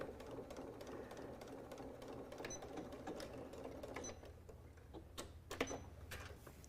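A sewing machine back stitching a fabric sun hat runs with a steady mechanical whir and rapid ticking, close and fairly quiet, easing off near the end before a few louder clicks.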